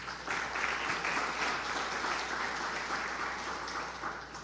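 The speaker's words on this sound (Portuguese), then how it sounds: "Aplauda o Senhor." A church congregation claps together during a sermon, a broad sustained wash of many hands, steady and fairly loud throughout with no speech.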